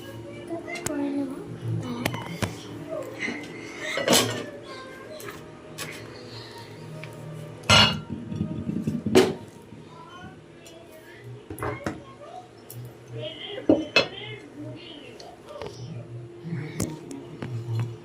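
A knife cuts through a washed mango near and fairly quiet, with several sharp clinks of cutlery and dishes scattered across the clip and a steady low hum underneath.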